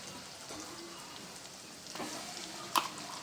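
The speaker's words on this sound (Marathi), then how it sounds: "आणि हे मसाले छान 1 मिनिटभर परतून घ्यायचे आपल्याला" Coriander powder, turmeric and other spices for egg curry sautéing in a pan, giving a steady soft sizzle with a few brief louder crackles near the end; no one speaks.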